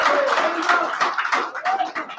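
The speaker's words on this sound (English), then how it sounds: "I want to give applause to Hildy really quick, everybody." Scattered clapping from a group at an Arizona political event, uneven and thinning toward the end, with some background voices mixed in.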